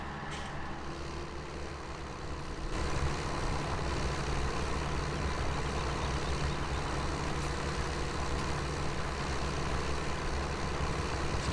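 A tractor engine idles in Farming Simulator 17, a steady low rumble that holds unchanged throughout with no one speaking.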